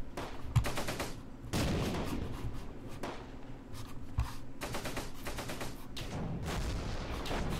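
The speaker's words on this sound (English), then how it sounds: "That's our artillery, of course." Artillery and gunfire from the Close Combat: Gateway to Caen wargame come as repeated sharp bursts and booms, some near and loud, some more distant, with crackling fire between them.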